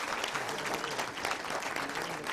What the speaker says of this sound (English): The courtroom erupted in applause